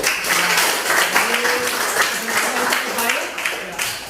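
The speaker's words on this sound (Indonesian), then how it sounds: "Ya, kita berikan tepuk tangan." Steady applause from a group in a classroom after a group presentation, broad clapping noise filling the clip with voices murmuring underneath.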